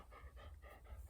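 Corbin the dog pants rapidly and steadily up close, a quick rhythmic huffing of breaths that carries on without pause, with no talking over it.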